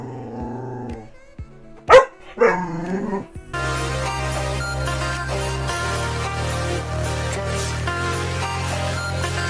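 A dog gives a couple of short, loud barks and a growl, separated by brief pauses, before steady music takes over.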